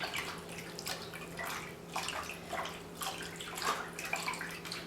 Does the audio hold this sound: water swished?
yes